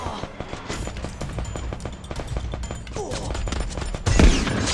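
Rapid gunfire in a video game, a dense run of sharp cracks repeating steadily for several seconds, with a heavier impact near the end and faint voices mixed in.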